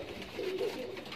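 A big Rampuri pigeon gives a brief, soft coo close by, one low rolling call.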